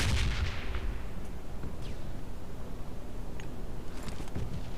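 A grenade is thrown and bursts in a shooting video game, with a loud boom at the start, then a steady rumbling battle din and scattered sharp shots, with no voices.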